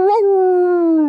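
A voice imitates a dog with one loud, drawn-out howling bark that rises slightly and then holds, heard close and alone.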